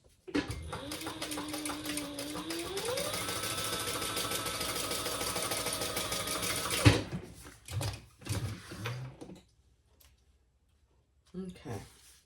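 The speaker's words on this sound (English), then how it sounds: "we are going to sew across the top of our coin pocket to enclose the coin pocket" A sewing machine stitches across the top of a wallet's coin pocket, whirring steadily for several seconds and rising in pitch as it speeds up, then stopping abruptly; handling thumps and a voice follow afterwards.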